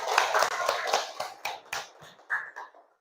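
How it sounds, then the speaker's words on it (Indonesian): A class of pupils applauds a group of classmates returning to their seats, a dense burst of hand claps that thins into scattered, uneven claps and fades out. "Kasih aplaus dulu untuk kelompok 3."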